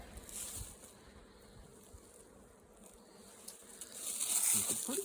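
Many bees buzz steadily as a honeybee hive is broken open for the first time in August. The dense, moderately loud hum swells toward the end, with no talk.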